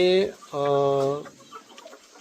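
Chickens cluck in a poultry shed on a farm, giving two drawn-out vocal calls up close followed by softer scattered clucks and shuffling in the background.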